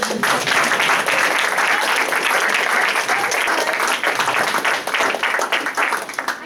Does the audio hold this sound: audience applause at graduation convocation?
yes